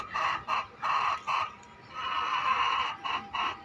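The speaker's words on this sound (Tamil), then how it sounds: "சேவல் வருது பார்த்தீங்களா." Chickens at a poultry farm cluck in loud bursts separated by brief pauses, then a longer sustained stretch, with no talking; a rooster is nearby among the hens.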